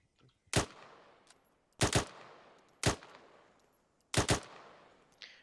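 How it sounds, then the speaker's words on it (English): Rifle fire in the military shooter Arma 3: four loud, sharp bursts of gunfire spaced about a second apart, some reading as single shots and others as quick multi-round bursts, with a short report trailing at the end. "you're gonna 1-tap, then a 3-round burst, a 1-tap, then a 3-round burst"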